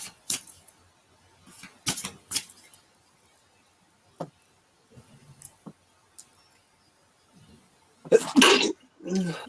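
A single loud sneeze from a woman near the end of a quiet live tarot session, preceded by scattered faint clicks and brief soft talk.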